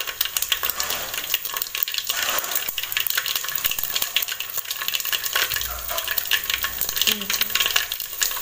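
Mustard seeds and cumin sizzle and crackle in hot oil for a tomato saar, a dense continuous frying hiss with scattered pops and a few light clinks, close and fairly loud.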